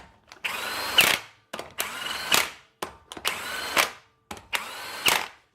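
A power tool snugs up lug nuts on a Chevrolet Tahoe or GMC Yukon front wheel, working in a crossing pattern. Four short, close, loud whirring bursts are separated by brief pauses.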